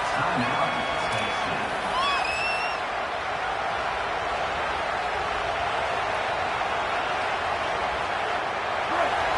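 Crowd noise from a football video game swells with broad cheering and whoops as a 3rd down is set up, staying loud and steady throughout with a few whistle-like tones early on.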